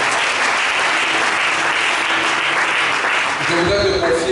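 A church congregation at an Easter seminar applauds and cheers loudly and steadily throughout, a dense wash of clapping and voices, with a brief swell near the end.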